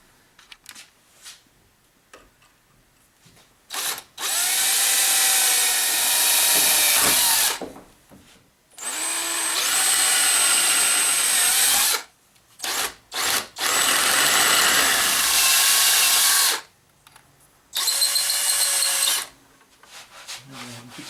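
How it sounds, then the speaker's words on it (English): A power drill bores a hole for a homemade angle grinder slider jig, running in three long loud bursts of several seconds each, separated by short pauses filled with quiet handling noise. "So now we got another hole to drill"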